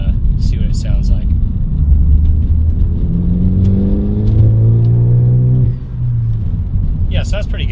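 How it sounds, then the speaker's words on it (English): A Ford Focus ST with an aftermarket catback exhaust revs up smoothly, its engine note climbing and holding before dropping back to a mild idle, with brief talk nearby at the start and end. "Nice, smooth, clean exhaust note, nothing obnoxious, nothing too loud, pretty mild."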